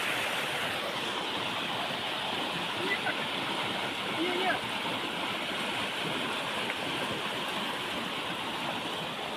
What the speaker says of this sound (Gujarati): પાણીની રફતાર બહુ જોરદાર આવી છે